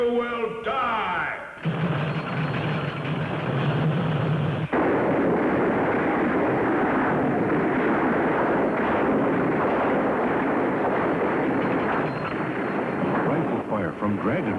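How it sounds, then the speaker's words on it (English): Rifle fire from a Western TV episode of The Lone Ranger (1966): a loud, continuous barrage of shots and blasts that dominates throughout, with other sounds briefly underneath near the start. "Rifle fire from Dragon."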